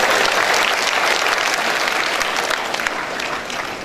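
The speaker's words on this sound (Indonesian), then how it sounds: "Tepuk tangan." Dense, sustained applause from a large audience at a university graduation ceremony, loud and steady throughout, easing slightly toward the end.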